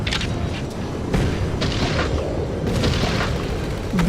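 Heavy weapons exploding in Mecha Knights: Nightmare, a continuous rumbling barrage of booms and blasts packed closely together, loud and dense with no talk.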